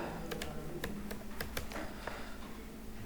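Typing on a computer keyboard while entering data in a Calc spreadsheet, a quick run of close, sharp key clicks in an irregular rhythm over a quiet room.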